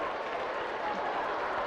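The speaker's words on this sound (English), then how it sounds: "Big round of applause." An audience claps for a volunteer after a presentation, a dense steady burst of applause filling the room briefly.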